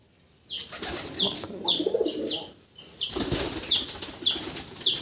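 Pigeon wings flap in quick repeated bursts nearby at a pigeon farm, mixed with rustling and faint cooing calls against a busy background.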